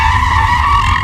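A 2015 Dodge Challenger SRT 392 turning around, a loud, sustained, close tire squeal over a low engine rumble for about a second.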